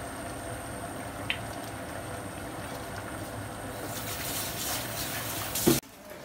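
Chopped vegetable mush cooks in a stir-fry pan, giving a steady watery bubbling and sizzling hiss; a sharp clatter near the end is followed by a sudden drop to a quieter sizzle.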